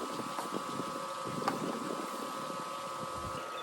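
A pool vacuum runs through a Sandpro 75 sand filter, giving a faint steady mechanical hum with a constant tonal drone and light watery rushing, low in level and unbroken.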